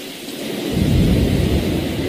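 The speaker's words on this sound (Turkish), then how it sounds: "Bulutlar yoğunlaşıp yağmur damlalarına dönüşüyor." Heavy rain pours down in a dense, steady hiss while a low rumble of thunder swells in and rolls beneath it.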